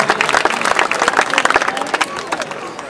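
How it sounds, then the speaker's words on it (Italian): An audience claps at a town presentation of a brass band festival, a lively burst of hands with crowd murmur and voices mixed in beneath it. "vi chiederei un applauso"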